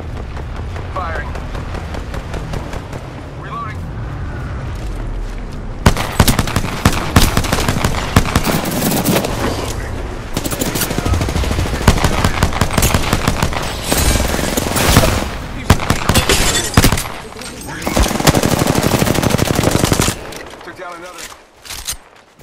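Rapid automatic weapon fire in a shooter video game, bursts of shots crackling loudly and continuously for long stretches, with brief pauses between volleys and a voice speaking in places.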